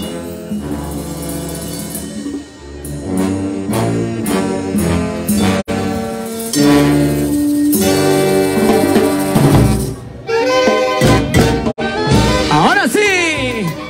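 A Peruvian banda jazz from Sunicancha, Huarochirí plays loud, full band music at a Virgen de la Asunción festival in Matahuasi, with brass and percussion driving continuously throughout.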